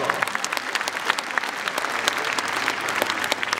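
Sustained applause from a film premiere audience honouring the costume team, dense steady clapping with many hands close and far, no voices standing out, continuing evenly throughout.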